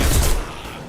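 Gunfire in the sci-fi shooter Mass Effect 2, a loud, dense blast of shots up close that quickly fades into a rumbling tail.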